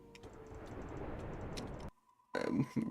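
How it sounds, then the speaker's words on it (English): Quick, crisp computer mouse clicks tick in scattered bursts over a low background rumble, then fall quiet before a louder muffled burst of noise at the end. "your mouse clicking"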